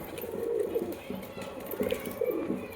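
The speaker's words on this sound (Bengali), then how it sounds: "পায়রাটা দেখতে পারো কত সুন্দর এবং লুকিংটা দেখতে পারো, রেসার একে বলা হয়" A Madras racer pigeon gives soft, repeated low coos in short bursts, with people talking nearby and faint background noise throughout.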